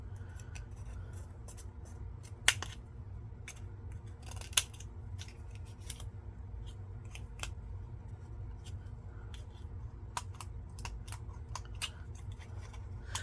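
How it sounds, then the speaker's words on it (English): Cheap Walmart scissors snip through plastic in a steady series of crisp, close clicks and sharp cuts, with a few louder snaps standing out over a soft background hum. "These are just some cheap Walmart scissors. That's why I'm okay cutting this plastic with them."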